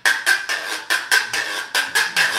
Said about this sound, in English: And this is a güiro.